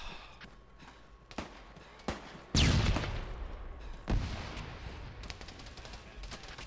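Gunfire rings out in the Arma 3 video game: scattered distant shots and clicks, then two louder booming bursts with reverberant tails.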